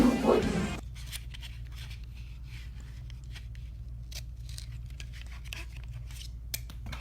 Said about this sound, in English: I'll just cut you off of my poster.